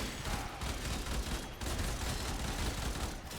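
Burston Prime rifle fitted with the Gilded Truth mod in Warframe, firing rapid near-continuous bursts, loud and close, with a couple of short gaps.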